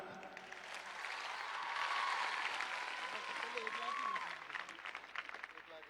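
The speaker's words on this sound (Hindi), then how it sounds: "एक बार जोरदार तालियां।" A large audience bursts into loud, sustained applause at a school exam-results celebration, the clapping swelling for several seconds and then thinning out, with voices heard underneath.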